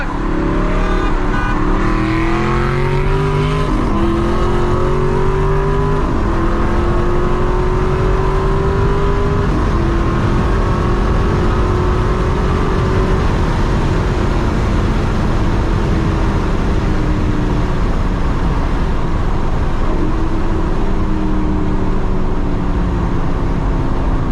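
A loud, continuous engine roar from an Aston Martin Vantage S racing a Maserati Ghibli SQ4 with its 410-horsepower twin-turbo V6 in a roll drag race, with revs climbing and dropping through repeated gear shifts the whole way.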